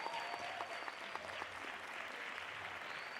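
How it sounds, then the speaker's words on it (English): Applause for the participants at a Gauteng school poster competition ceremony, a steady wash of many hands clapping. It sounds faint and somewhat distant, with a few faint voices mixed in. "A big round of applause for all our participants"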